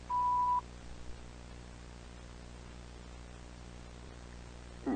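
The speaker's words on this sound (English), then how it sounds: "Please leave your name and phone number after the beep." Answering machine beep, a single steady electronic tone lasting about half a second over hissing tape static and low hum, followed by a faint click at the end.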